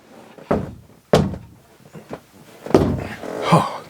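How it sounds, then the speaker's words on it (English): Several hollow knocks on a wood surface, in the middle of a bowling ball cleaner review. The hits come irregularly, about four or five loud thuds spaced apart, close to the mic, with some faint room noise between them. "Knock on wood"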